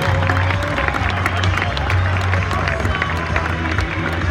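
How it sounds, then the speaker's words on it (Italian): Audience at the Impruneta grape festival applauding a district's performance, dense, steady clapping and crowd noise over a low rumbling background, continuous for several seconds. "Non manchi il vostro applauso a questo rione, che vi abbraccia con suo entusiasmo"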